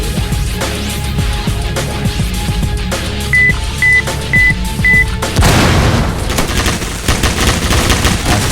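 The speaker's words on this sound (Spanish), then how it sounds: "si mis soldados les disparan a los enemigos, pues va a ser más rápido matar todavía" Soldiers trade rapid gunfire in Roblox Military Tycoon: dense, loud bursts of shots and booms with a few short electronic beeps in the first half, then a heavier, continuous barrage toward the end.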